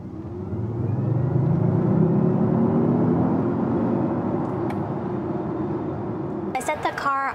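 A Jaguar I-PACE electric car set to dynamic mode accelerates hard from a launch, a steady low whir and road rumble rising in pitch over several seconds, with a voice breaking in near the end.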